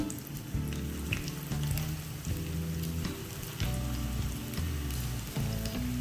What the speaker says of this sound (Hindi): पैन हमारा गर्म हो चुका है, अब हम इसमें पकौड़ों का मिक्स ऐड करते हैं।